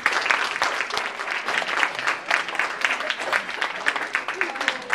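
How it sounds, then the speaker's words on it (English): An audience claps for a student presentation and sales team at a showcase event, a steady ripple of applause with some talk mixed in. "Please give them a round of applause."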